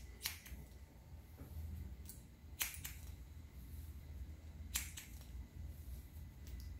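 Scissors snip afro-textured hair during a haircut. Isolated sharp clicks spaced a couple of seconds apart sound over a steady low background hum, with no talking.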